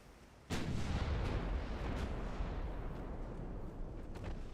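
Naval battleship artillery fire in a video game, a sudden heavy boom followed by a long, loud rumbling roar with a few more distant blasts, with no talking.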